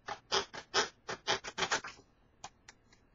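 Scissors, held upside down, snip through 65 lb cardstock in about nine quick, close cuts, then pause for two lighter snips at the end.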